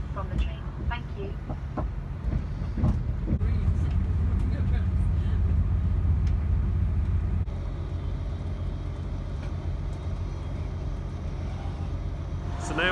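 A passenger train pulls out of a station on the Birmingham to Hereford line, heard from inside the carriage as a steady low rumble and hum. Faint voices murmur underneath throughout.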